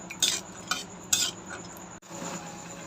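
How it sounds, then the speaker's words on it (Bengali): Peanuts fry in oil in a wok while a utensil stirs them, giving a few bright scraping clinks over a soft steady sizzle, with a brief gap near the end and no talk. "বাদামটা একটু ভেজে নিব লাল লাল করে"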